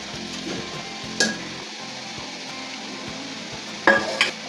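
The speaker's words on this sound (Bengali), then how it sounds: "আমাদের মশলা কষিয়েছে, আমরা এখন গরম জল দিয়ে দেবো।" Hot water goes into a pan of fried spices with cauliflower and potato for a Bengali muri ghonto, giving a low steady sizzle broken by a few sharp, brief hissing bursts and light stirring clinks.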